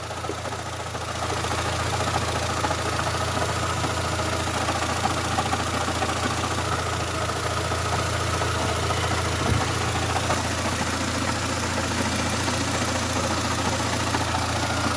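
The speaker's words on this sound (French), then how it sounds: "le moteur il tourne bien" A MINI One car engine idles with a steady, low, even hum and a constant mechanical drone throughout, close and unbroken, with no talk over it.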